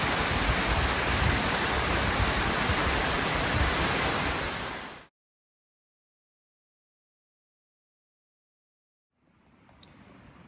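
Kings Falls on the Foothills Trail roars with steady, loud rushing water for about five seconds, then cuts to silence before the rushing resumes more faintly near the end.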